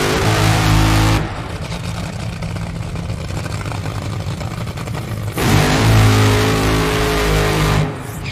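Top Fuel dragster engine during qualifying, a deep, thundering rumble that swells and eases in long revving surges, loud and close with a steady idle-like throb between bursts.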